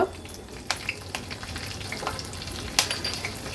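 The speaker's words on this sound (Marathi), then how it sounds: "नंतर जिरं, कढीपत्त्याची पानं, थोडंसं हिंग।" Mustard seeds, cumin, curry leaves and asafoetida sizzle in hot oil for a Maharashtrian tempering, with a quiet sputtering hiss broken by sharp crackles and pops.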